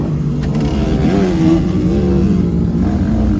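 A Suzuki Samurai engine runs in low range, a loud, steady mid-pitched drone with slight rises and falls in pitch, close up and without talk.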